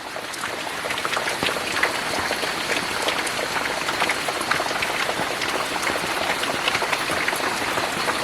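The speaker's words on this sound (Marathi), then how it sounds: "पाऊस परत सुरू झाला आहे" Steady heavy night rain in a village, pattering densely on surfaces, a continuous close hiss of drops without pause.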